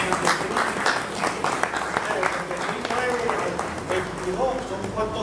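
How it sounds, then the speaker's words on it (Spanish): An audience at a history colloquium about San Germán applauds steadily, a continuous wash of clapping with voices and crowd murmur mixed in. "Vamos a dar un aplauso"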